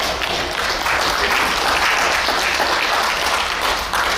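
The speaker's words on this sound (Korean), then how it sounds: "박수 한 번 더 부탁드리겠습니다" Steady, dense applause from a forum audience fills the room, a continuous even wash of clapping with no pauses, near and loud throughout.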